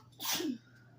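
A single sharp, close human sneeze bursting out loudly and then fading within about half a second, heard alone over a quiet background hum.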